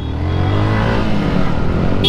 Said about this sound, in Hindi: एलडी भाई की बाइक भाई क्या ही आवाज़ कर रही है